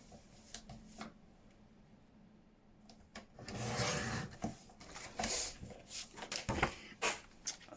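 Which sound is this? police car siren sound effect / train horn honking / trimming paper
trimming paper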